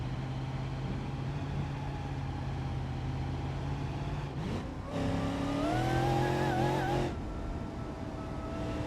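A car engine in BeamNG.drive, with adjusted rev limiter timing, drones steadily, then revs up sharply in rising tones and bounces against the limiter for a couple of seconds before dropping back to a steady hum.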